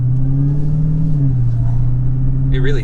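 Supercharged 6.2L V8 of a Dodge Charger Hellcat rumbles loudly from inside the car, its engine tone climbing then settling into a steady drone over a few seconds.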